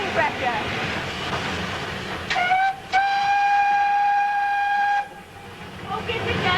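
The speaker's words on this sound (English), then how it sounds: "Just bringing the injectors on because we were blowing off and we had too much steam pressure." A steam locomotive's whistle sounds in a steady, loud tone for a couple of seconds after a short blip, amid rumbling train noise, with someone talking around it.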